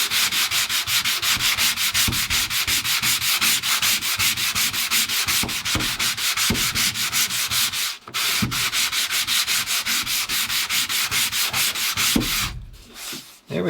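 Hand sanding with 150 grit sandpaper feathers an epoxy fillet onto plywood on a small dory build, a loud close rapid rhythmic back-and-forth scrubbing with brief pauses, no talk.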